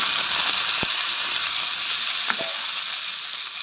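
A tempering of mustard seeds, curry leaves, dal and small pieces of red chilli sizzles as it meets coconut chutney, a steady close hiss broken by a couple of sharp clicks, with no voices.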